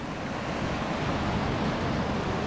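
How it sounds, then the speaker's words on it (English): Water pours over a small waterfall in a river in a wild Scottish glen, making a steady, dense roar close by. The sound is continuous and has no breaks. "it's like a ferocious massive waterfall"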